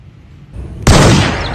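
A single loud, sharp gunshot from a pistol in a video game bursts in abruptly after a quiet lead-in and rings out broadly before fading.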